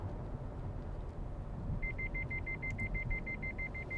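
The lane departure warning in a 2018 Mazda3 beeps in a rapid, evenly spaced chain of short electronic tones over a steady low road and cabin rumble while driving.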